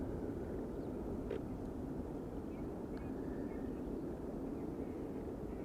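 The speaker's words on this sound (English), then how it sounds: "Airplane passing overhead but not producing a contrail." A large airplane passing overhead near Amsterdam Schiphol Airport, a steady broad roar that holds evenly for several seconds, distant and diffuse with some wind on the microphone.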